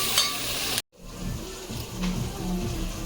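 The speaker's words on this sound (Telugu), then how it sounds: "కొంచెం వేగాక టమోటా వేసేసుకున్నాము" Tomato pieces sizzle in a hot pan while cooking for a mutton dish. The frying sound is steady and close, is cut by a short silence near the start, then resumes with faint stirring clinks.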